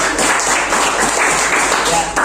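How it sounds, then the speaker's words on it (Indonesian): A classroom group of students claps together during a lesson: a short, loud burst of steady communal clapping mixed with overlapping voices. "Oke, tepuk tangan dulu."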